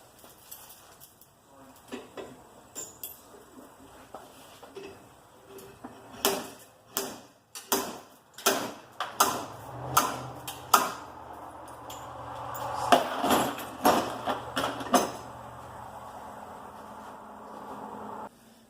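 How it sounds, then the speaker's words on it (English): A Morgan knocker slide hammer pulls on a thick metal 4-inch turbo downpipe, landing a series of sharp metallic knocks that start sparse and quicken into a steady rhythm, close and fairly loud over a low mechanical hum. "This is called a Morgan knocker. But same ordeal, still a slide hammer."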